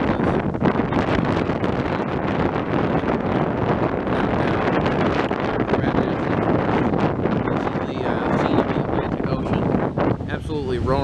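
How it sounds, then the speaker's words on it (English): Strong, steady wind of about 15-20 mph blowing in off the ocean on the coast of eastern North Carolina, roaring loudly into the microphone as a dense, continuous rush without letup. "Winds are coming off the ocean, probably 15-20 miles an hour steady."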